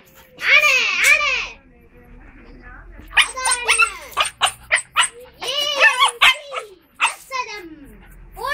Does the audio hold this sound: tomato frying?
no